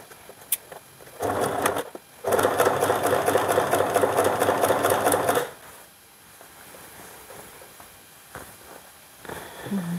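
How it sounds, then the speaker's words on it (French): Close, loud bursts of a sewing machine stitching darts on the back pieces of a black dress: a short run, a pause, then a longer steady stretch of rapid whirring before it falls quiet. "je ne dois pas oublier de coudre les pinces des deux parties du dos"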